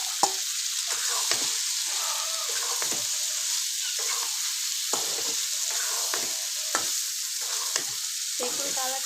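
A pan of eggplant curry with potatoes added sizzles and hisses steadily while a spoon stirs and scrapes in repeated strokes, close and fairly loud, with no voices.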